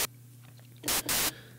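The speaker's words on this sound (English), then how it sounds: "that's given us our white noise" Bursts of white noise from a synthesizer oscillator set to its noise setting, two loud hissing blocks near the end after a quieter, buzzy stretch.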